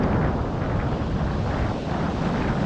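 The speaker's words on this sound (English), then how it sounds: "the last 3 days there's been some serious bloody wind" Strong wind batters a beach in Zanzibar with a constant, loud, rushing roar that buffets the microphone, with no voices.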